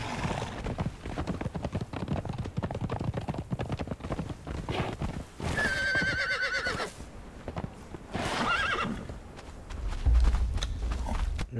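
A horse in the video game Conan Exiles clip-clops in steady, close hoofbeats and whinnies loudly twice along the way.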